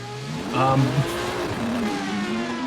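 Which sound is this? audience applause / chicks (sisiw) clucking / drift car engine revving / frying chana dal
drift car engine revving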